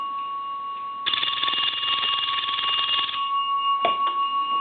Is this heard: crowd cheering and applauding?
no